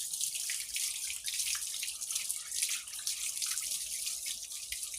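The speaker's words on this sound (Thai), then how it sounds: "ทีนี้ล้างตัวให้ติด ล้างขมิ้นออกครับ" Running water rinses turmeric paste off a dog during a bath, a steady broadband splash and trickle like a tap pouring, continuous and fairly close with no talking.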